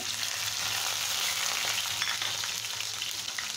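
Chopped onions fry with cumin seeds in hot oil, giving a dense, steady sizzle with light stirring scrapes, close up and uninterrupted, with no voices.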